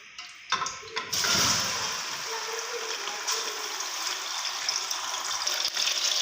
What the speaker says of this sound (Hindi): ऑयल हमारा हल्का सा गर्म हो गया। अब हम इसमें चिकन डालेंगे।